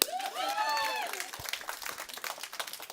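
A church congregation claps: scattered, uneven hand claps continue steadily and fairly close. A voice calls out over them near the start, and a bit of cheering joins in.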